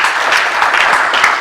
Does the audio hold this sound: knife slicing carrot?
no